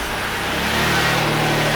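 A Saab NG 9-5 or 9-3 with an automatic transmission starts up and settles toward idle, a loud, close engine rumble that briefly rises before steadying, with no talking.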